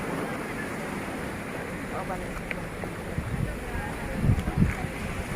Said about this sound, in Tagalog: Lumalaki po ang alon mga kabrox.